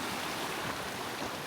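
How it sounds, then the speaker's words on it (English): Goose Creek flows in a steady broadband rush of water, an even close burbling wash with no voices, brief and unbroken. "Follow this creek, and that is flowing absolutely gorgeous."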